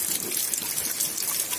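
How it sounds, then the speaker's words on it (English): Rainwater dropping from two pipes into guttering at a rural rainwater collection system with an underground tank, a close, continuous trickle and splash that runs on its own without talk. "this was an idea to kind of catch the water falling in"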